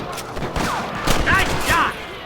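Rapid gunfire in the Western video game Red Dead Redemption, a loud, continuous volley of overlapping shots and cracks with brief whistling streaks and a steady loud background mixed in.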